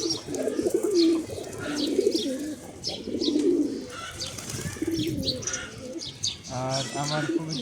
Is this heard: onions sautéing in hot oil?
no